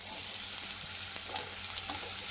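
Capsicum pieces frying in a pan, a soft continuous sizzle at low level with a few faint ticks and crackles.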